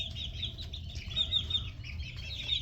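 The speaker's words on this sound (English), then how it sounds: "These are red jungle chickens." Young red jungle chickens, about six weeks old, make soft, high chirping calls in a quiet pen, repeating faintly and close over a low background hum.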